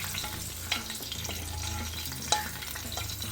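Coconut and sesame being stirred into unniyappam batter in a pan, a steady low scraping and sizzling texture with two sharper clinks, fairly quiet and with no talk.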